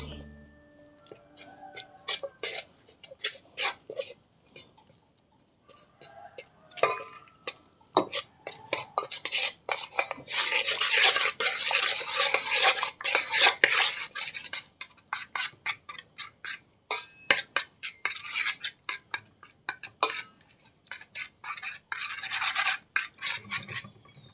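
Ragi flour batter is mixed by hand in a large vessel, giving bursts of wet rubbing and scraping strokes that come and go in uneven rhythm, close and moderately loud, with soft talk in the background.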